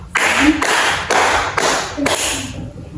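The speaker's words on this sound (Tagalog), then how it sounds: "Bigyan ninyo ang inyong mga sarili ng 5 palakpak" Schoolchildren in a classroom give five unison claps, each burst sharp and evenly spaced, with a brief gap between them.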